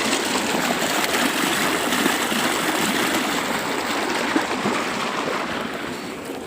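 Water from a motor pump gushes out in a steady, broadband rushing flow. It sounds close and continuous and never really changes, and no voices can be heard.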